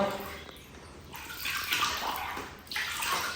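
Water splashes and pours as a baby's face is washed during a bath, a steady close wash that swells in bursts of splashing, with soft background voices.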